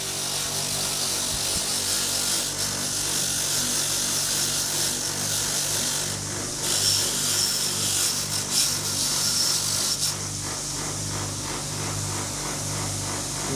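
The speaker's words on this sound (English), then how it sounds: "just come around here to the grinding wheel over here." A bench grinding wheel scrubs rust and grime off a front brake part, giving a steady, close, harsh abrasive whir with a few brief shifts in pitch as the piece is pressed and moved.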